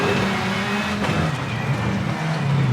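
An RX2 rally car in V-Rally 4 revs hard under acceleration, its loud, close engine note climbing through gear shifts, with a brief sharp crack midway.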